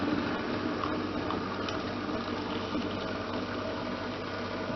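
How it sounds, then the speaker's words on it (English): Water boils at a steady, dense rolling rumble with a constant bubbling hiss, unbroken and fairly quiet, with no voices. "My water is boiling"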